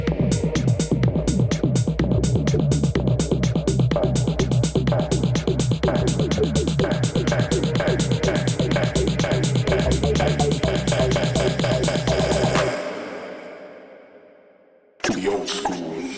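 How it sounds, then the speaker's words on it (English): Deep minimal tech house track built in Maschine, a driving kick and tight percussion pattern with low bass pulsing steadily, loud and continuous before cutting off and fading, then briefly resuming. "today I'm going to break down this deep, minimal tech house track I made in Maschine"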